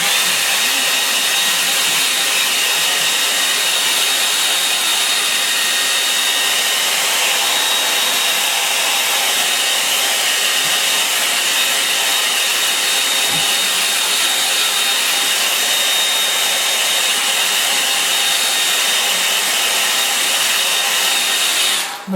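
A hair dryer blows steadily over a wet watercolour painting, a loud continuous whoosh close by that holds unbroken for about twenty seconds with no talking.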